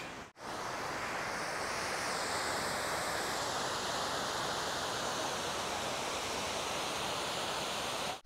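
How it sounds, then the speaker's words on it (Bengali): Water pouring over the spillway of the large Kuki Dam in Purulia, a continuous dense roar of rushing water, steady and close throughout with no talk. "আমরা এগিয়ে যাচ্ছি এই কুকি ড্যামে, যেখান থেকে জল উপচে পড়ছে।"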